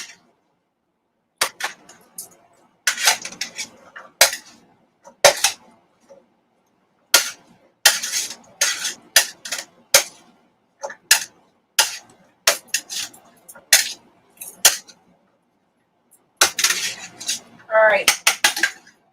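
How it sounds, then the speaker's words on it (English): Metal spoon clinking and scraping against a pot as a stew is stirred after a teaspoon of thyme goes in, in repeated close bursts of clatter separated by short pauses, with no talking. "Give that a good stir."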